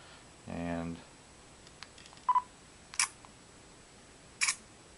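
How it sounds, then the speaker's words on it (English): Nikon 1 J4 camera in normal shooting: a short electronic beep, then a few small clicks and three crisp shutter snaps spaced apart, close and fairly quiet in a still room. "you can hear what the sound sounds like when you take a picture normally."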